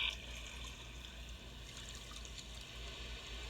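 Gentle, steady water splashing and trickling, a continuous liquid wash with a low rumble underneath, moderately quiet and unbroken throughout with no voices.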